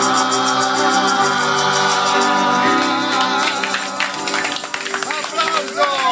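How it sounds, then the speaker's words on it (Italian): A crowd at an outdoor newsstand gathering claps over live music and talk, the applause mixed under tonal accompaniment and voices, rising and breaking into brisker clapping toward the end. "Applauso."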